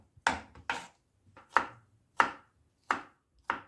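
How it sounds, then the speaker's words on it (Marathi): A kitchen knife chopping ripe strawberries on a board, six crisp, separate cuts at a slightly uneven, unhurried pace, close and clear with silence between them and no talking. "आता एक एक करून सगळ्या स्ट्रॉबेरीज मी इथं चिरून घेणार आहे."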